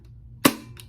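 Shutter mechanism of a WW2 K20 aerial camera cycling: one sharp, close mechanical snap, then a fainter click a moment later, against a quiet room.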